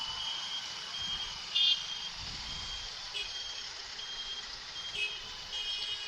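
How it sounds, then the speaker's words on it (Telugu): Heavy night-time traffic crawls on the Hitech City flyover, a faint, steady hum of idling vehicles under a continuous high whine, with brief louder bumps now and then. "హైటెక్ సిటీ ఫ్లైఓవర్ ఇది సూపర్ జామ్"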